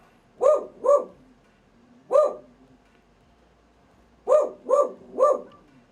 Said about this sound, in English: She doesn't usually bark like that.